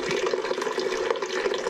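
Water drains from a neglected, plugged-up steam boiler, a steady close splashing trickle with a gurgling edge that runs evenly throughout without pause.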